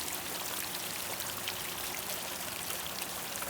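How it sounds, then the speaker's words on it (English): Water runs steadily over a Utah Sierra five-stack rock bubbler fountain, a continuous close hiss and trickle spilling across the stones with no pauses. "Water flowing over predominantly what we consider the front"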